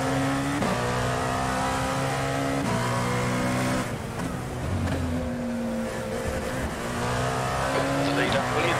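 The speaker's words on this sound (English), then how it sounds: "There's a car approaching." Race car engine from the iRacing sim, a Dallara P217 prototype at Road Atlanta, droning steadily with repeated upshifts and a rising whine as another car closes in. The sound is loud and continuous, with a spotter's radio voice faintly mixed in.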